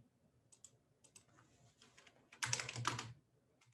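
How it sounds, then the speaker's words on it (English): Keys on a computer keyboard clicking quietly in scattered taps, then a short dense flurry of louder typing, close and alone. "It's just me pressing a keyboard."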